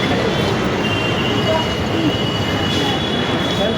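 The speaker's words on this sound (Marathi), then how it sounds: "आता मी पोचलो आहे काकीनगर मेट्रो स्टेशनला" A train runs through a metro station at Kakinagar in a loud, steady rumble of wheels on track, with a faint metallic squeal that stays close and constant for the whole stretch.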